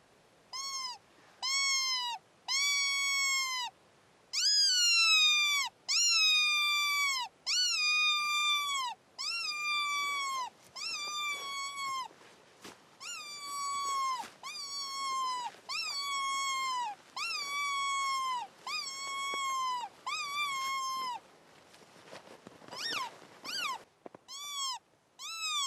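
A predator call mimicking a dying rabbit, used to lure foxes in Alaska, wails in loud repeated falling squeals with short gaps, a series of strained cries that quickens near the end.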